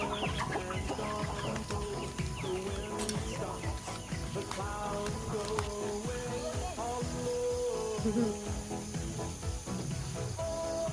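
Chickens on an organic farm cluck and squawk busily while being fed azolla, a dense overlapping chorus of many birds that continues throughout.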